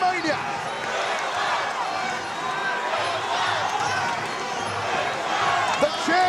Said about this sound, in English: The chants go up now for Wayne Parr. It sounds like a soccer crowd, but it's not. It's a Queensland Muay Thai crowd